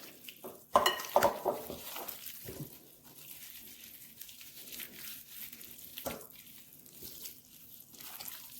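Turkey wings being tossed with seasoning in a bowl, a few loud clattering knocks early on followed by softer wet shuffling and occasional taps, close by with no talking.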